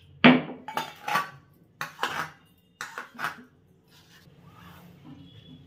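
Ground chili paste being scraped and tipped into a cooking pot, with a sharp metallic knock at the start followed by several short scraping and clinking bursts of utensil against metal, then fading to quiet.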